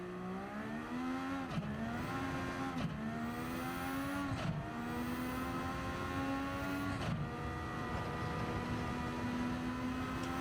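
A McLaren MP4/4 Formula One car in Gran Turismo 7 lapping the São Paulo circuit, its engine droning loud and close with steady high revs, broken by several quick upshifts and throttle lifts, no voices.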